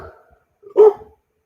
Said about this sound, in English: Sandy, stop barking at the neighbor.